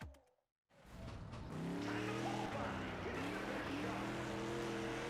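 A dirt race car in the World of Outlaws racing game starts from brief silence and its engine roars up loudly, then holds a steady, rising revving drone on the track.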